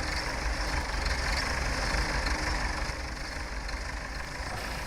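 Tractor engine idling in Farming Simulator 17, set in 1960: a steady low diesel rumble holds at an even level for the whole stretch, with no talk over it.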